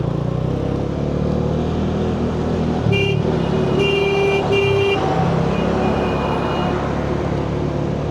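Traffic jam on a mountain road between Srinagar and Kargil: engines idle and rumble close by while several car horns sound in short overlapping toots midway.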